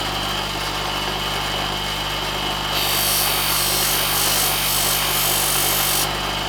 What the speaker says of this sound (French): je vais prendre ma pince et je vais le présenter à mon disque